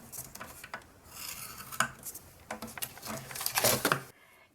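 Scoring lines into paper while making a paper gerbera daisy, a series of close, dry scraping and rubbing strokes in irregular bursts, with a louder stretch near the end.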